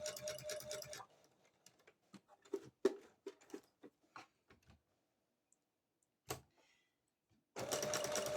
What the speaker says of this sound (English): you're going to sew all the way around with that